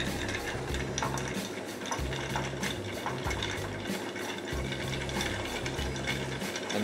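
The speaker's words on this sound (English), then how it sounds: "Stir it down." Cocktail stirred down over ice with a bar spoon, Genever in the mix: a continuous close rattle and clink of ice cubes swirling in a mixing glass, steady and busy throughout with no voices.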